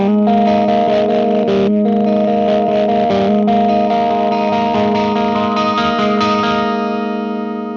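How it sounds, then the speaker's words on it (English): Electric guitar played through a JAX 8TR fuzz wah pedal, a loud, sustained distorted chord sound with a swirling filtered tone that slowly fades near the end. "So now we're going to play the wah."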